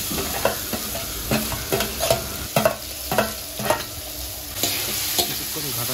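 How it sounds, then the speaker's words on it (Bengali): Pea paste with green chillies and tomato frying in a pan, stirred with steady scraping strokes over a constant close sizzle. "কিছুক্ষণ ঘাটাঘাটি করবো"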